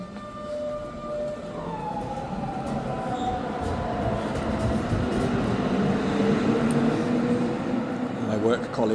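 A tram rolls past at night in the old town of Zürich on a freezing evening, a steady loud rumble rising with squealing wheels on the rails; voices can be heard faintly in the background.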